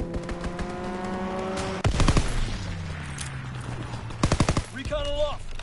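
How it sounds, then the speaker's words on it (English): Rapid bursts of aircraft strafing gunfire in Call of Duty WWII, with rattling volleys near the start and again toward the end amid game sounds and a voice announcing in the middle. "For a strafing run."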